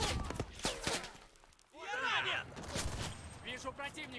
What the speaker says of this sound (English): Already getting shot at by machine gun fire.